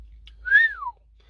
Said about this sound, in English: Let me give that a proper whistle.